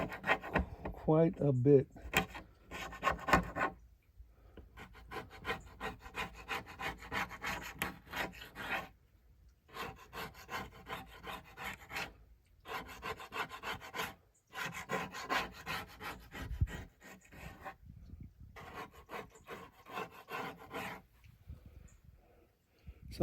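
Residue is scraped off a drum shell during a rebuild, heard as repeated close rasping strokes in rhythmic runs separated by short pauses. A voice briefly speaks.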